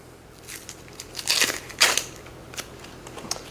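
Dry onion skin is peeled away by hand in close, crackly bursts: a few light rustles, then two louder crinkling tears, and a few faint crackles afterward.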